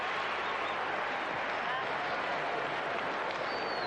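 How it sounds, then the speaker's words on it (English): A gymnastics crowd at the 1991 world championships gives a standing ovation, with steady, dense applause and cheering filling the arena throughout. "a standing ovation from the crowd"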